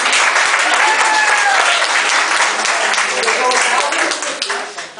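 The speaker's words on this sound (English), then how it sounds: "I want you to all clap, and I'm going to." A charity auction crowd at a recognition night claps loudly and steadily. Whistles or cheers rise through the dense applause and voices mix in before it tapers off near the end.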